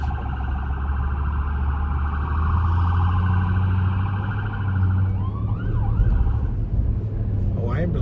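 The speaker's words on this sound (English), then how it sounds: "Ambulance had a hell of a time getting through." A loud siren sounds continuously over heavy traffic rumble, its wail shifting near the end as vehicles idle and move close by.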